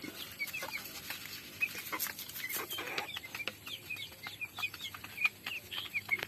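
A group of farm-raised chickens clucks and chirps in short, scattered bursts, several birds calling near and at once against a quiet background.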